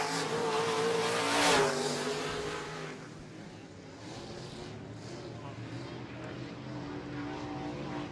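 A stalled modified race car restarts at a dirt track during a June 2016 heat, its engine firing into a loud rough roar that peaks early, then settles to a steady idle with a track announcer talking over it.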